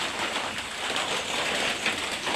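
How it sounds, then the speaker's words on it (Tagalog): Steady rain falling and dripping around a house, a dense, continuous hiss with no distinct individual drops standing out, close and even throughout. "tulo ang ulan."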